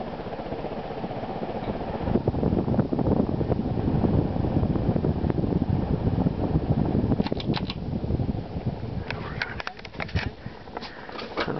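A 48-inch Evergo ceiling fan from about 1982 running at high speed, a steady close whoosh and hum, with soft bird cooing and chirps behind it toward the end.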